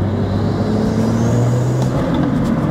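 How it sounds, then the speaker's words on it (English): A tuned BMW M240i turbo spools up under acceleration, a rising whistle riding over a loud, close engine roar that builds steadily across the short stretch. "Listen to the spool."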